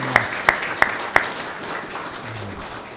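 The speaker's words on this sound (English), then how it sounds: "I'd like some applause for our Eagle Scouts over here for the timekeepers." A few loud, evenly spaced claps open the moment at a town candidate forum, then a thinner spread of audience applause trails off under a soft murmur.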